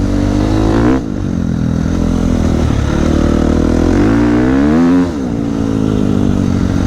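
A KTM 350 XC-F dirt bike ridden along a wooded trail, its engine droning steadily and loud with rising and falling revs throughout, close to the rider.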